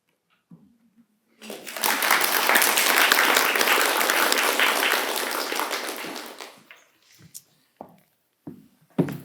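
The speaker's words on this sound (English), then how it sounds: "Let's give another round of applause to all of our poets." An audience at a poetry café event bursts into loud, sustained applause for the poets for several seconds, then fades away, leaving a few scattered sounds and brief speech.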